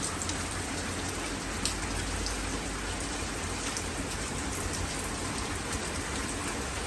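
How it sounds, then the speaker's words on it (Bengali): Heavy rain falls at night in London, a dense, even hiss of drops striking surfaces that carries on without a pause and with no voices. "এখন বৃষ্টি একটু কমেছে, আরও 5 মিনিট আগে কিন্তু বেশ অনেক জোরে বৃষ্টি হচ্ছিল"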